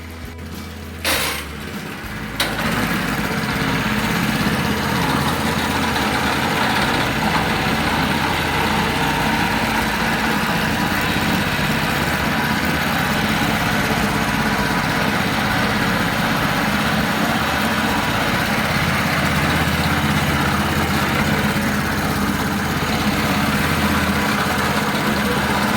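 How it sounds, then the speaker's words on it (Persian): A handmade car's engine idles steadily after a cold start with the choke pulled, a continuous low rumble with faint metallic clinks, close and loud, running alone throughout. "ساساد رو بعدش میدیم کنار، وای میسیم گرم بشه را بیفتیم"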